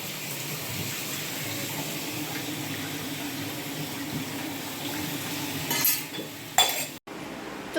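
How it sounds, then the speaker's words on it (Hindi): A home kitchen stained with oil is washed down with running water, a steady close hiss of flowing water with a few clinks and splashes near the end. "तो अभी पापा इसे धो रहे"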